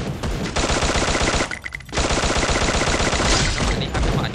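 Rapid automatic gunfire from the shooting game Free Fire, dense bursts of loud shots running almost continuously, broken by a brief lull partway through before firing resumes.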